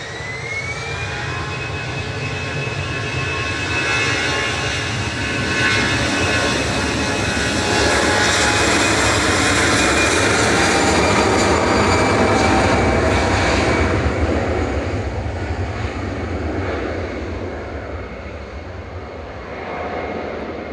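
An EasyJet airliner's jet engines rumble and whine steadily as it taxis to park at a busy Manchester Airport, loud and sustained with a rising whine in the middle before it eases slightly.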